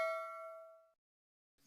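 A single bright notification bell dings once and rings out cleanly, decaying to silence, followed by a faint brief rustle at the end.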